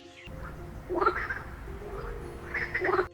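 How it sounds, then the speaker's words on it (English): A golden poison dart frog calls in Amazon rainforest surroundings: two short rapid trilling bursts about two seconds apart, moderately near, over a steady low background hum and faint ambient noise. "The golden poison dart frog."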